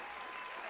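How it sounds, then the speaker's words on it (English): A short burst of clapping from a crowd, dense and steady, fairly quiet throughout. "Let's give Kermit a round of applause."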